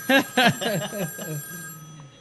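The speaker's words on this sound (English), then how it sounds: "Oh, the phone's ringing again." A telephone rings on a comedy call-in show, a few short bright ring bursts, the first ones loudest, then quickly fading.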